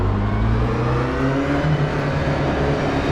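An Aston Martin Vantage GTE race car engine in the rFactor 2 sim racing game roars steadily close by, its pitch rising and shifting through gear changes.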